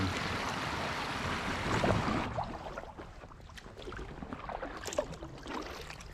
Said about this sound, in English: I'm paddling back towards the pillbox